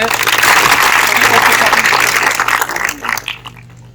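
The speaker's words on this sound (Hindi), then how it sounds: "चलो ताली बजाइए सब लोग" Crowd of villagers applauding at a community gathering in Bhagar village, Siwan, Bihar, loud and close, building briefly and then tapering off toward the end.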